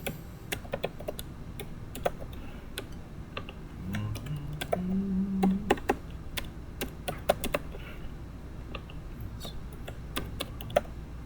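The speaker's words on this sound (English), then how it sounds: "bear with me while I type in the info" Someone types on a computer keyboard, entering information into a real estate listing form. Irregular light key taps come in short bursts and scattered single clicks, close and quiet, over a faint background murmur.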